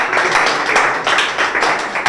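A crowd applauds a rapper at a rap battle, dense continuous clapping with a few rhythmic surges, loud and close.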